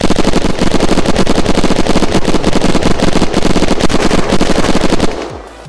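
Rapid automatic gunfire in the video game Unturned, a loud, continuous burst of evenly spaced shots lasting about five seconds before cutting off into a brief fading tail.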